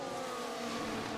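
Fernando Alonso's Formula 1 race car in F1 Manager 22, a steady high engine drone with a sustained whine, heard briefly and at moderate distance.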